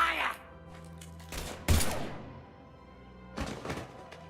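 Gunfire in Mass Effect 3 comes as a few sharp, heavy bursts, the loudest near the middle and another toward the end, with game ambience between.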